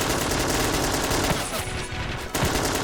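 A dense, continuous firefight in a battle simulation video game, with rapid machine-gun bursts and overlapping gunshots that rattle without pause and briefly thin before surging again.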